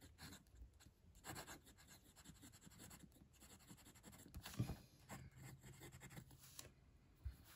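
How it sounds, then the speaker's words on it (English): Muji fountain pen nib with Faber-Castell Graph Royal Blue ink writing on Clairefontaine paper, giving faint, soft scratchy strokes in irregular bursts that rub and scrape quietly close to the microphone. "So you can hear there's a little bit of feedback on it, but it's not rough, it's not scratchy at all."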